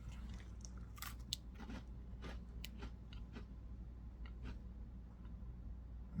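Turkish black cumin crackers being bitten and chewed close to the mic, a run of sharp, quiet crunches at an irregular pace over a steady low hum.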